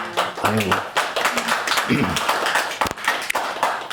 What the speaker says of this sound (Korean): 오늘은 박수 소리가 크네